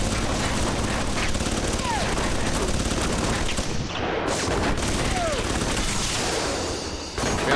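Turret gunfire from the video game Alpha Protocol roars as dense, continuous automatic fire, loud and unbroken for several seconds with brief whistling ricochets, briefly cutting out near the end.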